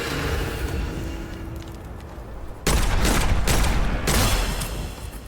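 Heavy gunfire from the dark-fantasy shooter Witchfire: a rumbling, noisy stretch of combat, then a sudden loud burst of rapid shots that cuts off and returns in a second volley, with no voices.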